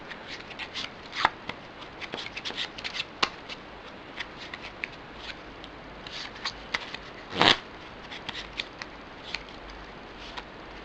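Crisp, irregular snaps and riffles of a Bicycle 125th Anniversary Edition playing card deck being cut and handled up close, with a louder flick partway through and quiet moments between.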